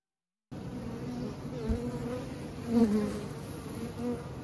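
A dense, steady buzz of many honeybees inside a hive opened in midwinter, close and continuous, swelling slightly in the middle.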